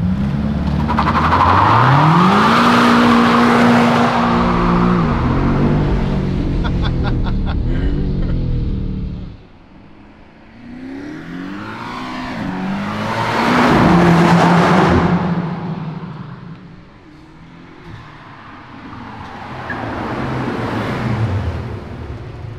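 A BMW M5 CS engine revs hard and accelerates with rising pitch, with tire squeal and skidding mixed in, easing off and then surging again in repeated waves.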